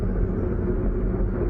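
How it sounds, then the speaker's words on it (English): A heavy, steady low rumble of a rocket igniting and lifting off, loud and continuous with no breaks, filling the whole clip without any voices. "ignition and liftoff"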